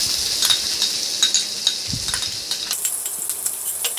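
Onions frying in a tablespoon of oil over medium flame in a pan for vegetable fried rice, a steady close hiss with scattered crackles and stirring scrapes throughout, no voices.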